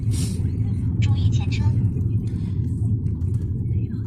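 Heavy low rumble of road noise fills a car cabin moving fast on a highway, steady and droning throughout, with a person talking over it.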